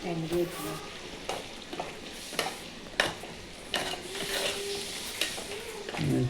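Chicken curry pieces sizzle in a pan while a spoon scrapes and stirs them in repeated close strokes, with a steady frying hiss beneath the sharp clatters.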